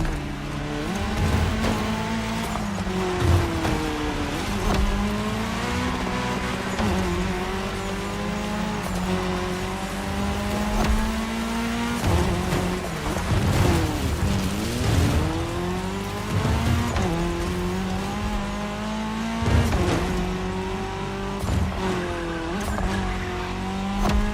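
Race cars in The Crew Motorfest speed over tarmac in a cross-terrain race, engines droning loudly and continuously with pitch sweeping up and down through gear changes, plus occasional tire squeals and cars rushing past.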